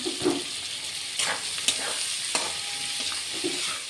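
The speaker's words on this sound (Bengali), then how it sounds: "কুচি করে কেটে রাখা পেঁয়াজ দিয়ে নাড়াচাড়া করবো। আর নুন হলুদ দিয়ে একটু ভেজে নেব" Chopped onions with salt and turmeric fry in a pan, giving a steady close sizzle broken by scraping stirring strokes, with no talking.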